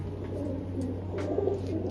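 Soft, continuous cooing from pigeons kept in a Punjabi loft, mid-level and steady over a low background hum, with no voices.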